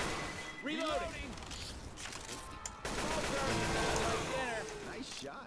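Rapid gunfire bursts in a Left 4 Dead 2 versus match, loud and repeated over about five seconds, with players talking over the shots.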